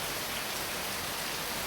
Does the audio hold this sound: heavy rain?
yes